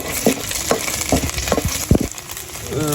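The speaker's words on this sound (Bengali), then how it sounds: "তেল ফ্রাই হয়ে আসছে তো এখন হচ্ছে যে এটার ভিতরে আলু দিয়ে দেওয়া হবে" Potatoes drop into hot oil in a pan where chaya fish is cooking, giving a continuous close sizzle broken by a few sharp stirring scrapes and clatters.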